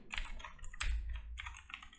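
A computer keyboard typed on close to the microphone, with quick bursts of clicking keystrokes and a brief pause, no voices.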